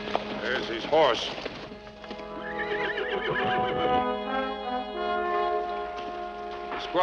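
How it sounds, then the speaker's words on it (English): A horse whinnies loudly several times, high wavering neighs over a sustained tonal background, with hoof clatter and a voice briefly heard. "Horse."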